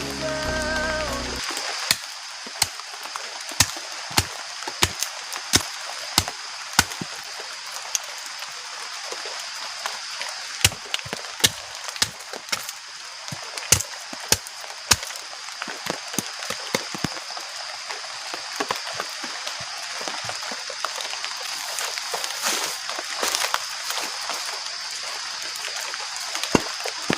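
Heavy rain from a storm with strong wind pours onto a camping tent, a steady hiss with scattered sharp drop impacts tapping the fabric throughout, and nobody speaks.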